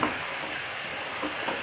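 Onions frying in a pan for dal bukhara, a continuous even sizzle with light crackle and occasional faint stirring clinks, close and steady without talk.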